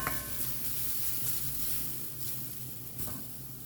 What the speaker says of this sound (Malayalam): തേങ്ങ ഒന്ന് വറുത്ത് കൊടുക്കാം